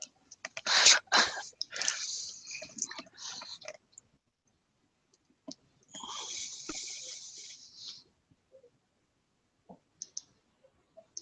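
Typing on a computer keyboard during an online group meeting, with bursts of rapid clicking keystrokes separated by pauses of silence and a few isolated taps near the end.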